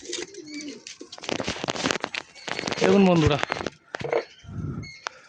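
Lalful Andhra pigeons coo softly in short low bursts up close while someone talks over them.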